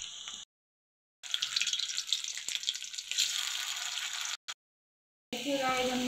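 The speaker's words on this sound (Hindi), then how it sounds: "इसे हम तल के निकालेंगे" A snack made from rice flour deep-fries in hot oil, giving a close, steady sizzle and crackle that is broken up by several abrupt silent gaps.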